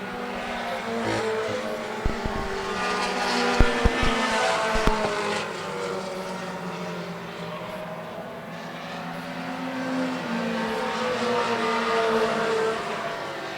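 Outlaw Mini race cars roar around a short oval track in a pack, engines droning and shifting pitch as they pass, with a few sharp knocks and a continuous loud motor blend for the whole stretch.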